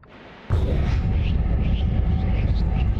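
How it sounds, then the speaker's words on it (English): A sudden loud rushing roar kicks in after a brief quiet lead-in and holds steady, like a fast-moving aircraft sound from flying at high speed in the game Noita. "we make airplane noises."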